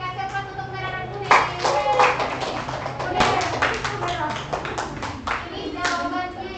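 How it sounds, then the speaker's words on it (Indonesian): A classroom group claps for the winning red and yellow teams, a burst of many hands clapping irregularly and fairly close, mixed with children's voices. "Kasih aplaus untuk merah dan kuning"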